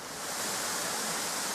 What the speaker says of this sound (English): Little waterfall, nice, isn't it?